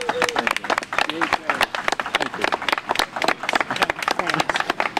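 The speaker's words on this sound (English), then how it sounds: "give a thanks and a special clap for State Representative Jerry Cassidy." An outdoor dedication ceremony crowd claps in a brisk, moderately dense round of applause, loud and close, with voices mixed in beneath the clapping.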